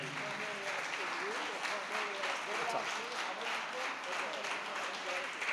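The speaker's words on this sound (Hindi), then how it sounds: "तालियां उनके लिए बजाएं।" Crowd applauding to welcome a guest at an event, steady moderate clapping heard from a distance with voices talking over it.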